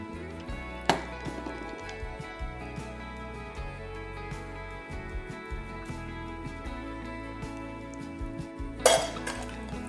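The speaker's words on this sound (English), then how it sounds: "Mix it up real good." Food being mixed in a bowl with salt and pepper, a run of close clinks and scrapes of a utensil against the dish, with two sharper knocks standing out.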